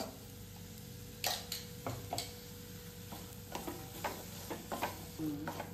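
Ground masala paste sautés in oil for a drumstick gravy, a soft low sizzle punctuated by irregular scraping and tapping of a spatula against the pan, quiet and close with no voices.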